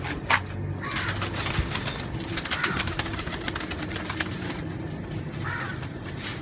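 Baby pigeons, pure and cross breeds including Teddy, Golden and Ferozpuri, coo and flutter at close range. A steady bed of rustling and scratching fills the space throughout, with no talking.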